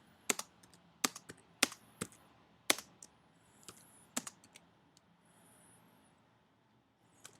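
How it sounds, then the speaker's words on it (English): Keys and the space bar tapped on a computer keyboard, a handful of sharp separate clicks in an uneven rhythm, with longer gaps between them and quiet stretches. "we're going to basically type in at the space bar, type space, type space"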